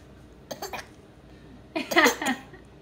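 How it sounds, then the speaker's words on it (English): A small child coughs twice in quick bursts, the second cough louder and more rasping, with quiet room noise between. "What is this cough about all of a sudden?"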